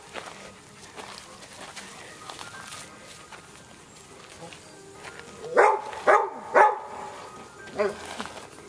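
A dog barks three times in quick succession near the close, followed by a softer fourth bark, after a stretch of quiet indoor room sound with faint voices.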